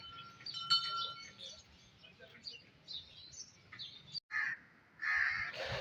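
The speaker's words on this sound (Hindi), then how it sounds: "बाहर कौवे भी काएँ कर रहे हैं" Crows cawing outdoors at dusk outside a mosque, with scattered harsh calls and chirps at a moderate distance over low background noise and brief quiet gaps.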